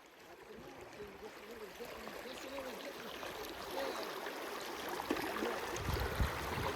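Stream flowing over a short stretch of white water into a deeper run while fly fishing, a steady broadband rush of moving water that swells slightly louder toward the end, with no talking.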